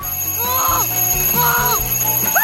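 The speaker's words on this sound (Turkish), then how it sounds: "Acil bir alarma ihtiyacım var." Alarm clock ringing in a comedy food-challenge sketch: a loud, steady metallic bell rattle throughout, with warbling melodic tones layered over it.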